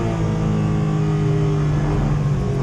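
A Porsche 718 Cayman GT4 Clubsport racing engine accelerating on the Snetterton track, a loud, steady, droning roar heard from inside the car throughout, with no speech.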